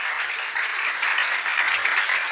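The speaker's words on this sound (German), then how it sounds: "vielleicht starten wir einfach mal schon mal in den Jubel" Congregation in a church service cheering and clapping together, a dense, continuous wash of applause that swells slightly midway, loud and sustained with no single voice standing out.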